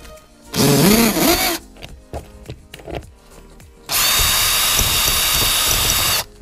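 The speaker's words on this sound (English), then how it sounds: "So just hold it down and start drilling it out." A power drill bores out the rivet on a roller luggage wheel in two loud bursts, a short one first, then a longer steady whine, separated by clicks, taps and handling noises close by.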